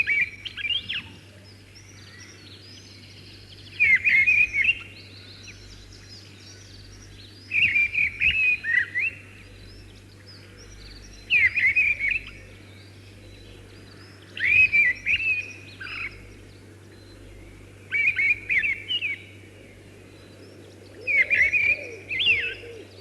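A mistle thrush, the stormcock, sings in short loud phrases of fluting notes, about six bursts separated by pauses of a few seconds, with a steady low hum underneath.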